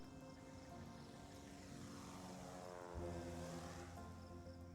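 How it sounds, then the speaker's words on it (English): A propeller airplane departs in the airport management game Airport CEO, its steady engine drone holding at an even level before a louder low rumble swells in near the end, with no talk. "I think one of the planes just left."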